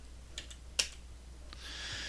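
Keys tapped on a computer keyboard to enter an AutoCAD command: a few soft, separate clicks in quick succession, the sharpest strike near the middle, against a low hum and faint background hiss.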